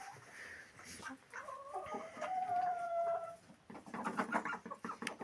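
A newly arrived rooster crows once, nearby and clear, with a drawn-out call amid rustling and faint background clucking.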